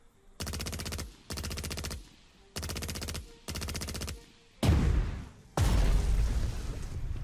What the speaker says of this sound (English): they're firing upon me.